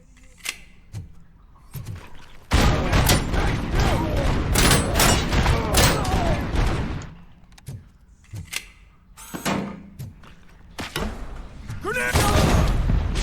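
Sustained gunfire and a grenade blast in the RoboCop: Rogue City shooter, with dense rattling volleys, heavy thumps and a booming burst, broken by short pauses and someone shouting over the action.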